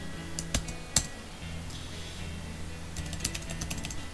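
A computer keyboard typed on while filling in an Excel spreadsheet, with soft, close key clicks in short bursts and a couple of sharper taps, quiet and alone with no talk.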